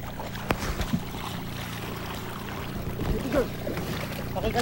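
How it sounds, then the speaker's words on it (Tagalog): A small wooden bangka rocks and tilts on open water mid-crossing, with steady water and wind rush, a few knocks against the hull, and a faint voice calling out near the end. "Nasa kalagitnaan na kami ng pagtawid nang biglang tumaglid ang sinasakyan naming bangka."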